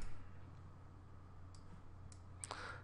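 Mouse clicks during Microsoft Word 2010 work, a few sharp isolated clicks late on over a faint steady hum, close and quiet with no talking.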